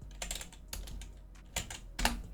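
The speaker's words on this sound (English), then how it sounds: "all you have to do is actually just type Chrome Store here" Keys clatter on a computer keyboard in a short burst of uneven taps, close and crisp, with no talking over them.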